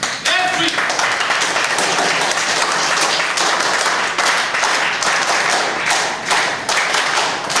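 Students applaud at a school space programme event in Srinagar, a dense, sustained burst of many hands clapping loudly throughout, with voices audible beneath.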